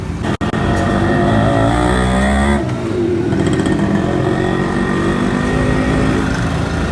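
A motorcycle engine revs loudly and close by during a tune-up at a workshop where the engine oil is being changed, the roar rising and holding steady for about seven seconds with no talk over it.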